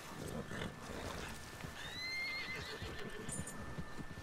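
In Red Dead Redemption 2, a wild horse gives a high, wavering neigh midway through, over a soft background of hoofbeats and ambient game noise, all fairly quiet.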